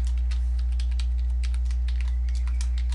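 Steady, close computer keyboard typing as a file name is entered, a run of quick, light key clicks with no voices.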